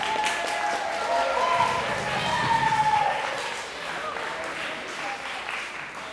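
An audience applauds for several seconds at a leadership training event, a steady wash of clapping that swells near the middle and then eases off, with voices mixed in.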